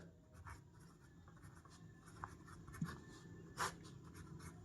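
Someone writes out the discriminant formula for a quadratic equation by hand, making faint, scattered scratching strokes with a few sharper taps in a quiet room.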